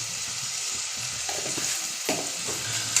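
Asafoetida, turmeric and salt are stirred through hot oil in a pan for upma, a steady close sizzle with scraping spoon strokes and a couple of sharper clinks, no talking.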